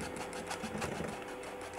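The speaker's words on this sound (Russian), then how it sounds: "Ну что, я взбиваю, а ты добавляй, просеивай." An electric whisk whirs continuously and close by while beating flour and spices into gingerbread cookie dough, a steady motor drone with no breaks.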